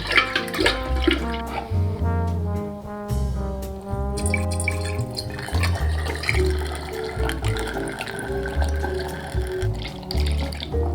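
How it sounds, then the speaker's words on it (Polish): Sour rye soup starter pours from a container through a scalded funnel into half-litre bottles, giving a close, continuous gurgling trickle with shifting tones as the liquid flows. "Wyparzony też lejek już przelewamy."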